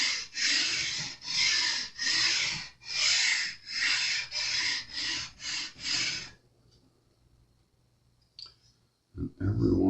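Sandpaper rubbed back and forth along the frets of a Fender Telecaster neck, a run of about nine even, loud rasping strokes that stop abruptly, followed by near silence and a faint knock.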